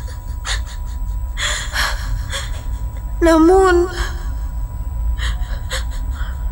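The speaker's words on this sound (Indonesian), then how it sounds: "Nafasku terengah-engah." In a radio horror drama, a voice actor breathes in heavy, ragged gasps, a series of sharp breaths with one louder voiced gasp in the middle, close and loud, with a single spoken word.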